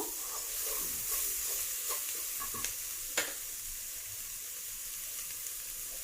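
Aloo paratha filling frying in a pan, with mint and coriander just added, gives a steady close sizzle with a few soft stirring scrapes and one sharp clink near the end.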